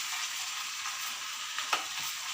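Food fries in a pan with a steady bright crackle and sizzle close up, and a single sharper pop near the end.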